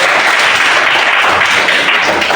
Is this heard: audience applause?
yes